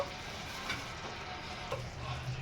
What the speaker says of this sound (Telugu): ఇప్పుడు మనం ఫ్రై చేసి పెట్టిన వంకాయలు అయితే కనుక ఇందులో యాడ్ చేసేస్తున్నాను.